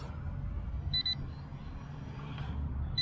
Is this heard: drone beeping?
yes